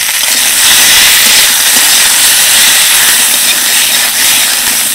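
Green chillies are dropped into hot oil with garlic, ginger and a little white cumin. They give a loud, steady, close hiss and sizzle that stays constant throughout.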